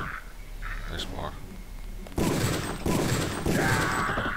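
Sudden loud bursts of gunfire from a video game firefight, three sharp onsets over about two seconds, landing over a busy game soundscape with muffled voices underneath.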